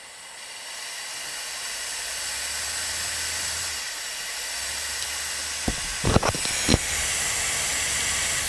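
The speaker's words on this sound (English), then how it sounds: "this seems to be a very low frequency oscillation at this low flow rate" Air jet from a pneumatic hand dryer at low flow rate with a microphone held close, a steady broadband hiss with a low throbbing oscillation underneath, broken by a few short sharp clicks near the end.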